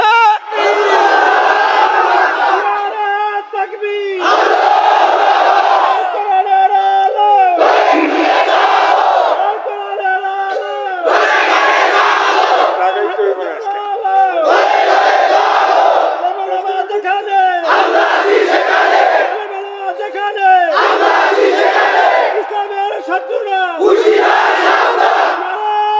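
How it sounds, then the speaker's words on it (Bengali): A large crowd chants the Nara-e-Takbir slogan in loud, rhythmic call-and-response bursts, about eight roaring shouts repeating every few seconds. "বলে নারায়ে তাকবীর চলছে"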